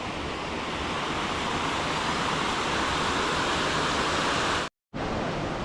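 A rocky hillside stream in the Konkan countryside running with reduced water after an earlier flood, a steady close rushing wash that cuts out abruptly near the end.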